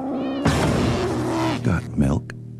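A cat meows a few times in short cries, close and fairly loud, amid other household noises.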